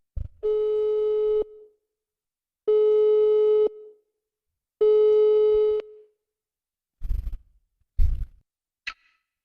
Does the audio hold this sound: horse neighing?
no